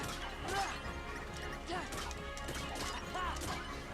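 Clay pots being smashed in the video game Kingdom Hearts 2, a few sharp crashing breaks over steady game music and effects.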